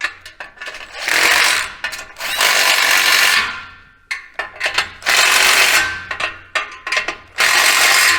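A power tool tightens an exhaust pipe clamp during a Chevy/GMC 6.0L exhaust install, giving loud bursts of buzzing ratcheting rattle separated by short pauses, close to the microphone with no talking.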